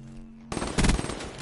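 Gunfire in the video game Black Ops 3 during a competitive Hardpoint match: after a quiet moment, a sudden burst of rapid automatic shots breaks out, loud and close, with sharp repeated cracks.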